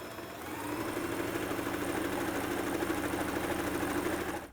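A sewing machine runs a straight basting stitch down a length of curtain fabric, a steady fast mechanical whir that holds evenly throughout with no pauses.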